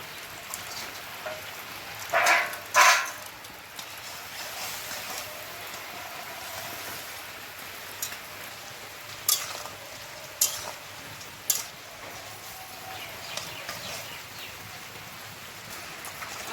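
Fish fries in hot oil in a pan for a Bengali fish curry made with taro leaves, giving a steady close hiss of sizzling with a few sharper pops and crackles and no voices.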